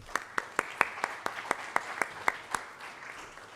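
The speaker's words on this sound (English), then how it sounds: "So a huge round of applause for our guest and you guys." A small event audience claps for the guests, with about a dozen sharp, distinct claps spaced fairly evenly over a few seconds, modest and sparse rather than a full roar.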